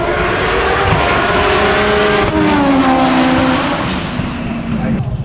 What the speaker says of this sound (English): I think there's some cars coming down the track.